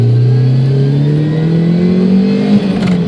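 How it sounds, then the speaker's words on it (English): A Mazda 323 GTX engine pulls steadily under acceleration on a road test drive, its rising tone climbing smoothly and loudly close by, with no talk over it. "we're doing our little test drive for the car"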